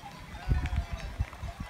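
Sheep bleating on a mountain hillside in northern Italy, several short bleats from a flock at close to moderate distance, loud and irregular, with faint background ambience.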